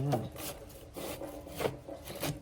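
Quiet scraping and rasping strokes of a knife slicing through a firm watermelon rind, several cuts in an uneven rhythm, close up.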